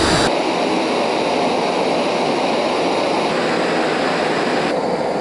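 A gas canister burner roars steadily under a small Trangia Triangle stove while boiling water, a loud, continuous broadband rush with no voices.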